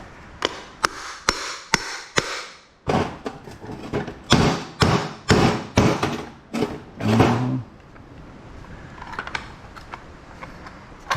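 Sharp hammer blows knock apart a ceiling fan part clamped in a vise for copper recycling: about a dozen loud, close metallic strikes in uneven bursts over several seconds, then fainter clinks and handling noise.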